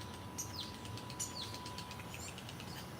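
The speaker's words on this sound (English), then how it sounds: "That bird's up there making them noises again." Several short, thin bird chirps sound outdoors on a calm morning, faint and spaced apart over a steady background hum, with no talking.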